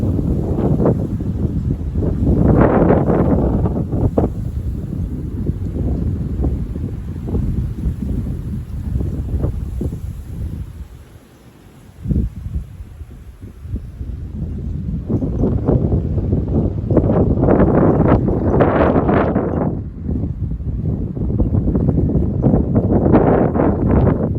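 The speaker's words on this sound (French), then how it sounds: "sur les côtes, ça souffle vraiment fort" Strong coastal storm wind buffets the microphone in a loud, continuous roar, dipping briefly midway before surging back in heavy gusts during a December gale.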